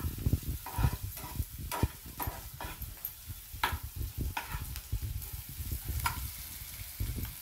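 A steady, crackling sizzle of spices tempering in hot oil, loud and close, with scattered clicks and taps of a spoon against the pan.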